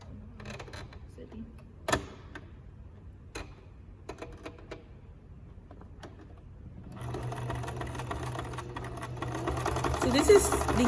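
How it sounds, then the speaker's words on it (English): Sewing machine runs a simple straight stitch over quilted postcard fabric pieces, quiet ticks and taps first, then a steady whirring hum building in loudness for the last few seconds. "you're gonna go to the sewing machine next, and we're gonna sew these down to secure them"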